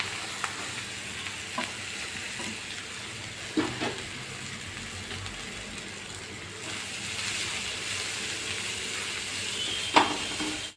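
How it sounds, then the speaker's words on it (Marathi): Fresh coriander leaves frying in a spoonful of oil in a wok, a steady soft sizzle with occasional stirring scrapes and a few clicks, no voices. "आता ही कोथिंबीर आपण ही तळून घेणार"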